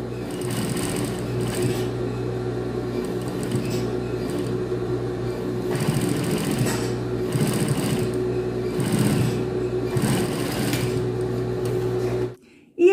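A sewing machine topstitches the waistband of a pair of jeans, running close and loud as a steady whirring hum with rapid stitching pulses for about twelve seconds before it stops abruptly.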